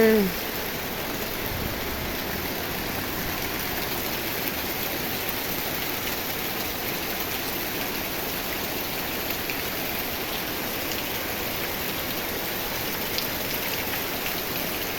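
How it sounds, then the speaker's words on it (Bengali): Steady rain falls as an even, continuous hiss of drops striking surfaces nearby, unchanging throughout. "বৃষ্টি হচ্ছে"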